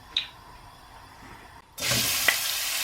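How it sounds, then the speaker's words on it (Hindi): Onion hits the oil in a pot and starts frying, a sudden rise into a steady hissing sizzle after a quiet moment with a faint clink at the start. "हल्का फ्राई करना, हल्का पीस करना है इसे।"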